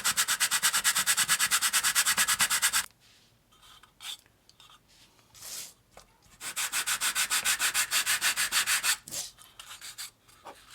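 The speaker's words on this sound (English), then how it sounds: "you could put a little bit of sandpaper down on the table and sort of use this to sort of re-flatten the foam core on the bottom" Foam core rib bottom rubbed flat on sandpaper laid on a table, a close, loud rhythmic scraping in two long bursts of quick back-and-forth strokes with a quieter pause of softer scuffs between them.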